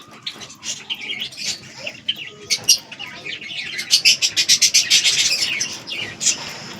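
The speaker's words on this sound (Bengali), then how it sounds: "তোমাদের পায়রাগুলো এখনো উড়ছে" Domestic pigeons flying overhead, heard as a burst of rapid wing flaps and chirpy calls that builds toward the middle and carries on with occasional coos, fairly close and with no talking.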